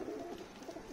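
A soft, low pigeon coo rolls out in a brief murmuring phrase, faint and close, with no other sounds.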